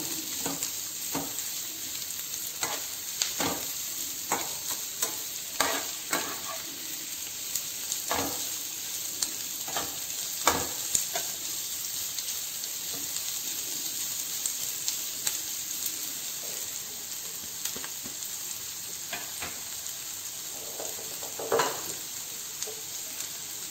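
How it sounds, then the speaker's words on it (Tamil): Pomfret fish frying golden on a tawa, a quiet steady hiss of oil punctuated by scattered pops and crackles, close by and undisturbed by speech. "நல்ல கோல்டன் ஃப்ரை ஆகட்டும்"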